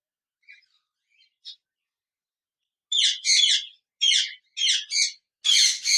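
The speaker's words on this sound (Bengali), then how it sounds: "কোকাটেল পাখি রয়েছে," A pair of large cockatiels in a cage at a bird seller's gives a few faint, brief calls at first, then a run of loud, close, rapid chirping bursts that repeat in quick succession, with no talking.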